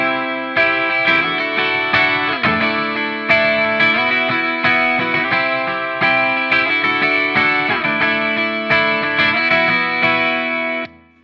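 Gibson double-neck electric guitar playing a passage from a song with chorus and effects, a steady run of ringing, sustained chords and picked notes, loud and alone, stopping abruptly near the end.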